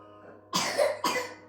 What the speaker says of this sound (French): Oh, il tousse.